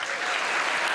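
Dense, steady applause from a large audience at a political speech event, a continuous wash of many hands clapping at even loudness with no voices on top.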